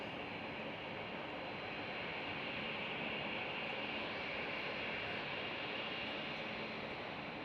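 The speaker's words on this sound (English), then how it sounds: "next one up is for departure on runway 18 left. It is a Ryanair." A Ryanair jet departs on runway 18 Left at Amsterdam Schiphol, its engines a steady, loud broadband roar that holds unbroken throughout without any talk.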